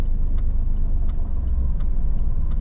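A car engine hums steadily at low speed while the car is driven through a narrow street, a constant close drone with faint ticking clicks on top. No one speaks.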